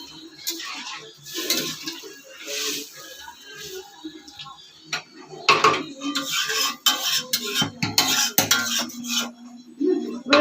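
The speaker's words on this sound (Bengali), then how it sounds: "এবারে গুঁড়ো মশলা দিয়ে 2 মিনিট নেড়ে নিয়েই জল দিয়ে দেবো" A utensil scrapes and clinks against a pan while ground spices are stirred in for a Bengali fish chochori with potato and eggplant. The close, irregular metallic scraping runs throughout, with faint sizzling underneath.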